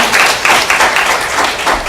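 A church congregation claps together in steady, rapid applause for a couple of seconds, close and lively, with no speech over it.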